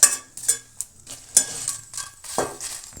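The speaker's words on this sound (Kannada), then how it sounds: "ಒಣಮೆಣಸಿನ್ಕಾಯಿ ಹಾಕೋಣ. ಹಾಕ್ಬಿಟ್ಟು ಇವನು ಚೆನ್ನಾಗಿ ಫ್ರೈ ಮಾಡೋಣ" Dried red chilies frying in oil in a pan for a brinjal chutney, with soft sizzling under repeated metal-on-pan stirring scrapes and clinks, close and fairly quiet, no talking.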